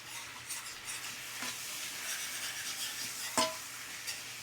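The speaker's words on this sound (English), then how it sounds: "scrape up the fond on the bottom and simmer that until the wine has reduced by probably at least half" White wine bubbling in a pan as fond is scraped from the bottom for a creamy chicken piccata sauce; a soft, steady simmer with light stirring and scraping, and one sharper clink of a utensil near the end.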